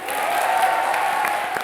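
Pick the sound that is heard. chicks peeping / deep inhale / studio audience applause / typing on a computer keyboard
studio audience applause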